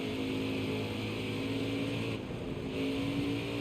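Stock car engine in NASCAR Heat 5 roars steadily at high revs, a loud sustained drone with a brief dip midway before surging again.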